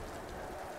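Steady rainfall in the video game Tomb Raider (2013), a soft, even hiss of rain on surfaces throughout, quiet and continuous, with no voices or other distinct sounds.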